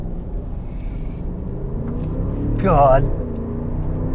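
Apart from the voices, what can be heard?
2023 Range Rover Sport P530 V8 accelerating on road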